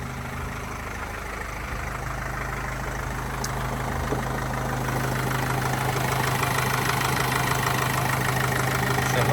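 Steady 2014 Opel Vivaro 2.0 van engine idle with a low droning hum, and air conditioning fans whirring up and running louder toward the end, with no voices present.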